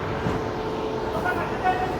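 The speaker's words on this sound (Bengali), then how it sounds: "আমাদের ট্রেন এখন ভুবনেশ্বর ছেড়ে বেরিয়ে যাচ্ছে" A train pulling out of Bhubaneswar station on the Howrah–Puri 12837 superfast, heard from inside the general-class coach as a continuous rumbling carriage drone with a faint horn toot and muffled voices underneath.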